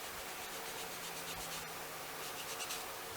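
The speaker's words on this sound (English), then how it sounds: "Now let's just take a little bit of sandpaper" Sandpaper rubbed by hand over a subwoofer enclosure trim piece to smooth a small nub makes a faint, steady scratchy rasp that runs throughout, with no talking.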